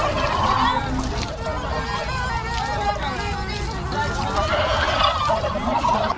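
Domestic turkeys gobble in repeated warbling bursts at a busy poultry market, with geese and other fowl among them, loud and close over a background of crowd chatter and voices.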